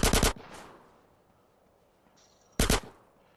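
Gunfire in GTA San Andreas during a Grove Street versus Ballas fight: two loud, close bursts of rapid automatic shots, one at the start and another after a quiet gap, each trailing off into echo.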